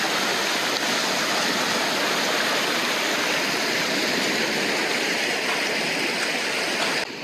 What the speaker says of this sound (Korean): 와 이렇게 강물이 흘러 들어오는 거 처음 보는데 바다로?